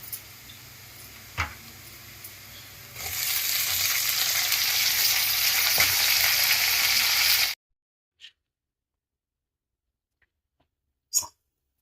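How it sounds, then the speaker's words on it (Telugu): Eggplant pieces tipped into a pan of fried onions for an eggplant and chana dal curry, a steady loud sizzle swelling for several seconds and then cutting off abruptly, followed by near silence with a couple of faint clinks. "ఇప్పుడు మనం ఇందులో వంకాయలు వేసేసుకోవాలి"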